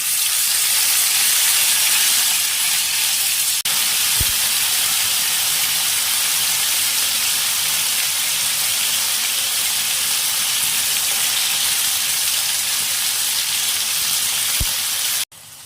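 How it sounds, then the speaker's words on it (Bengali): Paneer pieces fry in hot, lightly salted oil, making a continuous, even sizzle and hiss that stays close and steady for the whole stretch before stopping abruptly at the very end. "এবারে পনিরগুলো ভাজার জন্য ছেড়ে দিলাম"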